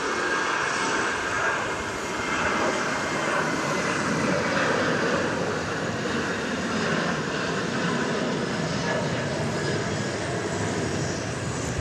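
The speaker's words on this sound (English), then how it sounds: "we normally watch airplanes taking off and landing and whatnot" Airplane engines roaring at Dallas Love Field, a sustained loud broadband jet rumble that holds steady and swells slightly in the middle, continuing without break.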